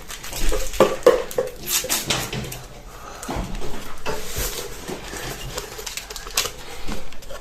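Raisin cake batter with vanilla sugar and baking powder being mixed in a bowl: irregular clinks and scrapes of a utensil against the bowl, close and uneven in rhythm.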